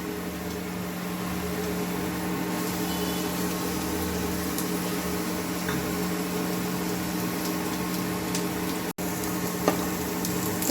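Ginger and garlic fry in a pan over browned onion, giving a steady, close sizzle with a constant low hum beneath it throughout.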